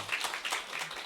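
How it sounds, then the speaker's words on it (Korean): Brief applause from a seminar audience at a business training session, a short burst of many hands clapping in quick uneven pulses, fairly faint. "그걸 준비해 주신 우리 저 서재영 본부장님께 다 같이 한번 박수 한번 보내드려야 됩니다."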